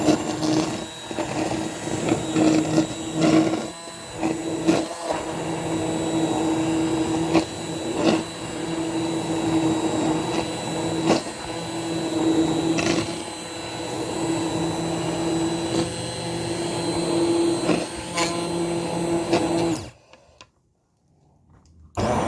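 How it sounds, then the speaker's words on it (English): An immersion blender purées cooked potato soup in a pot, a loud steady whirring drone with brief dips and surges as it works through the chunks, cutting off abruptly near the end. "I've got my immersion blender here to finish the soup"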